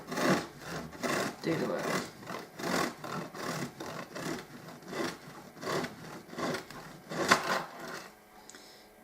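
A serrated knife saws at an angle through food in slow, even back-and-forth strokes, a close rasping scrape repeating about a dozen times at a steady rhythm, with a brief spoken phrase near the start.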